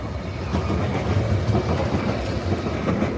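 Nottingham Express Transit tram 215, named Brian Clough, pulls away from Toton Lane stop on a service to Phoenix Park with a steady, close rumble and faint clicking of wheels on rail.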